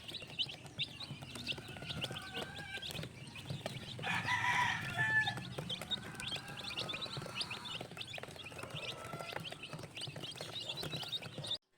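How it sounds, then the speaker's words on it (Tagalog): Newly hatched chicks feed at a game farm, filling the air with dense, busy peeping and chirping. A louder burst of calls rises midway, over faint pecking and shuffling, with no one speaking. "Nakakatuwa ang mga sisiw at matatakaw na agad kumain."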